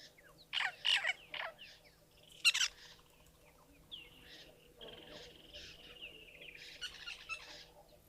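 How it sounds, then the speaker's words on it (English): A woodland kingfisher calls far off in the African bush, faint trilling phrases repeated several times over a quiet background, with a couple of louder nearer bird notes early on. "You can hear a kingfisher, a woodlands kingfisher way in the distance,"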